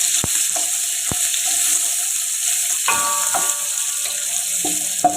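Finely sliced carrot sizzles in a pan for chicken Afghani pulao, a steady close frying hiss broken by a few sharp clicks and stirring knocks, no talk.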